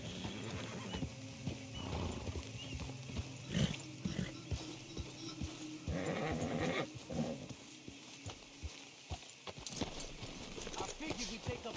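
Horses in the Red Dead Redemption 2 video game clip-clop along with steady hoof beats and an occasional whinny, under people talking throughout.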